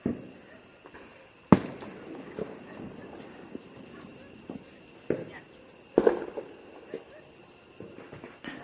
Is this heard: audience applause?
no